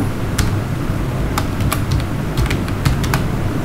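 Light, scattered key taps as a shopping list of potatoes and onions with prices is typed into a note app, irregular and fairly close over a steady low background hum.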